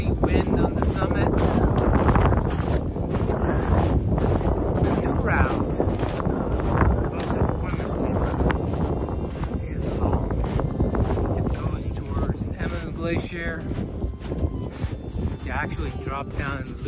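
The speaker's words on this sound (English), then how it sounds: "Crazy wind on the summit." Strong wind roars across the microphone on the summit of Mount Rainier at dawn, a constant heavy buffeting rumble under a speaking voice.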